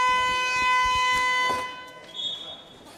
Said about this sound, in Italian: Allora suonano ora le sirene